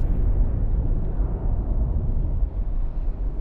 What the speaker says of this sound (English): Is that a nuclear explosion?